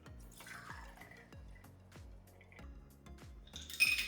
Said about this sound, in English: Now we're just gonna strain that and pour it into our glass.